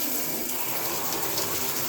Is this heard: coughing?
no